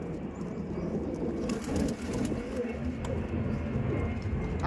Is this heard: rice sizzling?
no